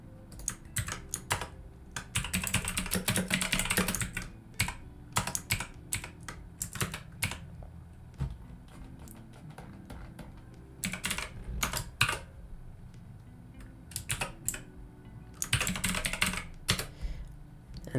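Steady clatter of a computer keyboard as code is typed, quick bursts of keystrokes separated by short pauses, close and clear with no talking over it.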